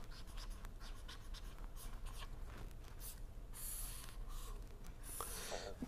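Chalk or a marker scratches across a board during a vacuum-pump lecture, a faint run of short strokes over a low steady room hum.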